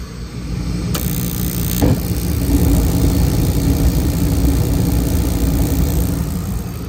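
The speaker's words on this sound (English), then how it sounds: "Okay, we got ignition." A gas furnace lights after a soft click and then burns with a steady, loud roar and rumble that holds for several seconds.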